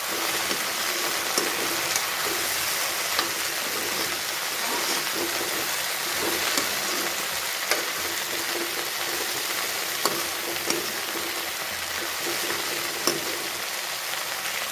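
Onions frying in a pan for a spicy okra (bhindi) curry, giving a steady, dense sizzle and crackle that runs unbroken and evenly loud from start to finish, with no voices over it.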